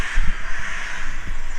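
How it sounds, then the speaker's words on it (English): Several crows caw harshly in a cemetery park in London, a few loud close calls over a steady bed of ambient noise. "If the crows would be quiet"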